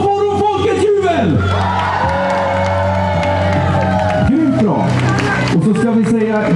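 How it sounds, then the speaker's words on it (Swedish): A crowd at the Kretsloppet race in Borås, 2015, cheers and whoops for a girl holding her prize trophy. Loud, continuous cheering runs under an announcer speaking over it. "Och så får hon folkets jubel!"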